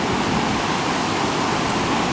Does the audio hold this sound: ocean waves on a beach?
yes